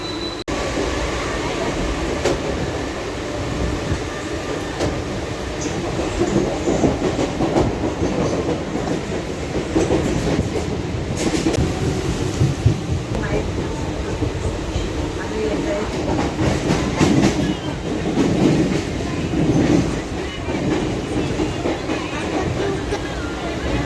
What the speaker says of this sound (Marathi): आम्ही लोकलला बसून घरी चाललेलो आहे कल्याणला स्टेशन आलेलं आहे